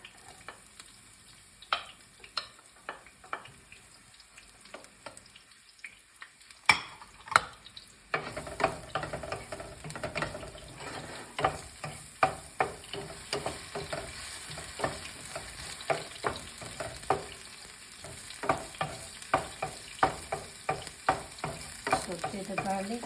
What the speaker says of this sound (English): Saute the garlic. We need to cook it a little bit.